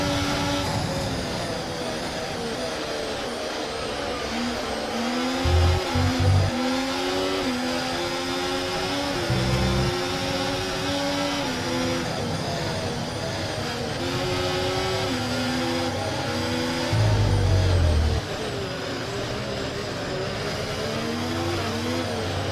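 Steady high-pitched F1 car engine from the game F1 24 at Sao Paulo, a continuous close whine with shifting pitch and a few brief low thumps, no talk.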